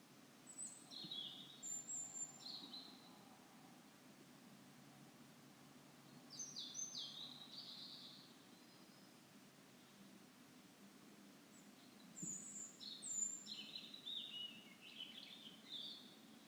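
A European robin sings in short, high, warbling phrases separated by pauses, faint against a steady low background hush.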